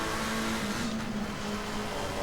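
A McLaren 720S EVO GT race car in Assetto Corsa Competizione at Silverstone, its engine droning steadily with a sustained mid-pitched tone through a corner, loud and close, with no talking.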